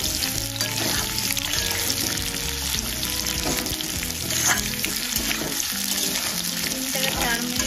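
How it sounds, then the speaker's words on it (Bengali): Potatoes fry and get stirred in a pan for a fish dish with fish eggs, fish head and malabar spinach, a dense steady sizzle with scraping stirs throughout, close and loud, no talk. "3 থেকে 4 মিনিট ভালো করে আলুটা ভেজে নেব"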